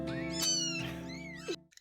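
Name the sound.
foster kittens meowing loudly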